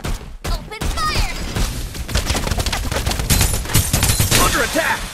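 Dense, loud gunfire fills a Farlight 84 team deathmatch with rapid bursts and overlapping shots, while game voices and effects sound underneath.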